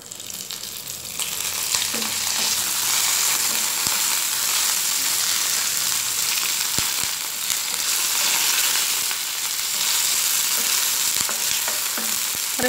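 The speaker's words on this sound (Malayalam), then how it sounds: "കറിവേപ്പില ചേർത്ത് കൊടുക്കണം." Curry leaves sauté in a pan for a Kerala-style coconut chammanthi, giving off a loud, steady hiss of sizzling oil with light stirring scrapes throughout.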